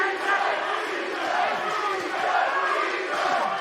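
Arena crowd roaring and cheering through the final seconds of an MMA fight between Dillashaw and Sandhagen, a loud, dense, continuous wall of voices with no break.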